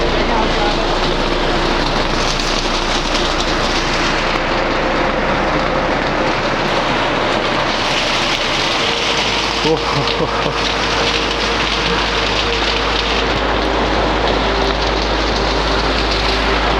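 Steady, dense heavy rain pours down close by in Kashmir, a continuous broadband hiss with a low rumble underneath and no pauses throughout.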